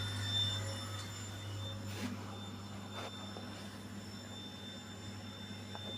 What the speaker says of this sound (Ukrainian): Ось забирається вода, запустився знов цей насос